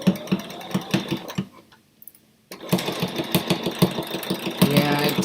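A sewing machine stitches in rapid rhythmic bursts, pausing briefly to near silence before running again steadily, close and fairly loud, with faint talk around it.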